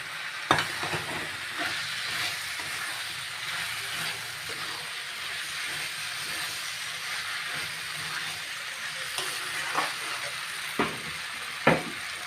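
Potatoes and vegetables sizzle and fry steadily in a pan of cooked-down spices, a continuous crackling hiss with occasional sharp clicks of a utensil, close and moderately loud.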